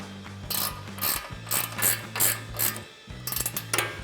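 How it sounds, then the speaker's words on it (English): An 18mm ratcheting wrench tightens a nut on a Ford F-150's front suspension during a leveling lift install, giving a series of close, crisp ratchet clicks in short bursts with brief pauses between strokes. "Grab your 18mm ratcheting wrench, tighten that down."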